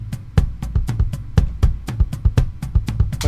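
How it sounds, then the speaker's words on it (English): A Logic Pro Drummer tom pattern plays with the kick and no snare, giving a rolling run of booming tom hits over steady low kick thumps in quick succession, loud and up-front, without talk. "So I'm just hearing the tom layer pattern number 1 with the kick and snare pattern 1,"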